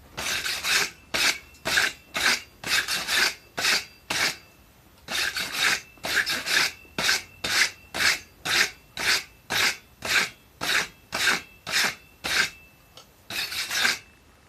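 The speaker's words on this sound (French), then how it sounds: "Et pour passer un coup de brosse." A wire brush scrubs a hand-forged metal Mjolnir pendant in quick rasping strokes, a close, regular train of about twenty-five scratches with brief pauses between groups.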